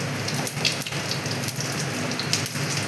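Whole cumin seeds sizzle and spit in hot oil, a steady dense crackling hiss with scattered sharper pops, close and continuous with no talk.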